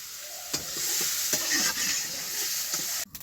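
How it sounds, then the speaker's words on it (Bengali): Oil sizzles softly and steadily in a pan of curry cooking in pangas fish oil, with a few light stirring scrapes, close by and without any voices. "এই মাছের তেলে আমি তরকারিটা রান্না করে নেব"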